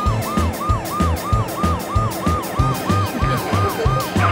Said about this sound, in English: The Pororo ambulance was dispatched to treat another emergency patient